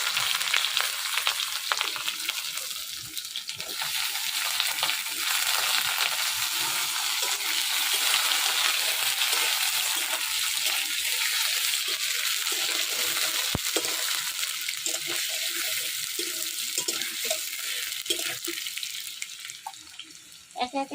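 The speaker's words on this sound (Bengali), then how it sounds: "একে একে আমার কাটে রাখা সবজিগুলা এবার ভাজবো" Potato and carrot pieces fry in mustard oil, a steady, loud, close sizzle with crackling that holds throughout, with occasional faint clinks of stirring and no talking.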